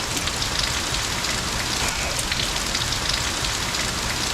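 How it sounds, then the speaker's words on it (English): Steady rain falls outside, a dense, even hiss of drops striking surfaces close by, continuous and fairly loud with no voices. "Rain outside just decided to come down"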